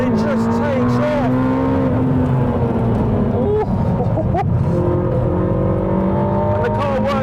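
A Ferrari SF90 XX hybrid sports car's engine roars and climbs in pitch as it accelerates hard, loud and steady throughout with a brief gear-shift dip.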